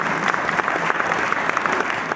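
Applause from a group at a session on AI in independent communication, a dense steady clatter of many hands lasting the whole moment, close and fairly loud with no talk over it.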